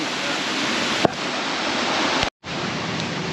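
A natural forest waterfall, compared to Kuang Si, gives a steady, loud rush of falling water that fills the whole stretch. There is a faint click and one very brief dropout.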